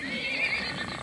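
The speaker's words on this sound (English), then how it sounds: "Grazing horses. Running horses, colts." A horse at a hacienda with grazing and running horses and colts lets out a loud, quavering whinny, close and sustained for about a second.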